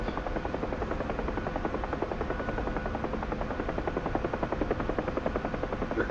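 A UH-1H Huey helicopter in the DCS flight simulator flies along with a steady, loud rhythmic rotor thump over a constant turbine drone.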